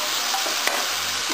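Anchovies fry in a pan with a steady, soft crackling sizzle, punctuated by one brief clack of a utensil.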